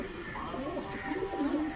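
A brief burst of pigeon cooing at a high-flying pigeon loft, low rolling calls close by and fairly steady, with faint background noise and no talk.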